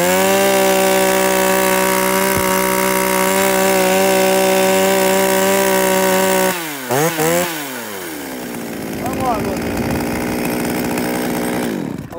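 A used Japanese chainsaw is test-started and held at a loud, steady idle buzz for several seconds, then revs and bogs briefly before settling into a lower, rougher running drone close by.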